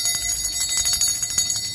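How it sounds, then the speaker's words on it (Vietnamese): A hand-cast bell of natural brass rings repeatedly, bright sustained metallic tones with a quick rhythm of strikes, loud and close with no talking. "một con chuông đồng rất là hay luôn các bác nhá"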